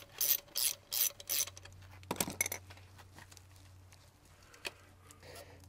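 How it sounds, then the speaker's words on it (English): A ratchet fitted with a quarter-inch socket loosens the cap on a Sta-Rite Max-E Pro pool pump motor. Four quick, close bursts of clicking come first, then a shorter burst and a few faint metallic taps. "Just a quarter inch socket."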